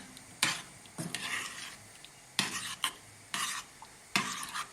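A polenta mixture stirred with a spoon in a bowl, heard as about five distinct, fairly quiet scraping bursts with short pauses between them.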